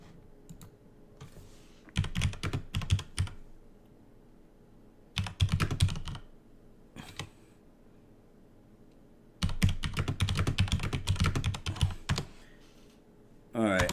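Typing on a computer keyboard in several bursts of rapid clicking, separated by pauses, close up and moderately loud.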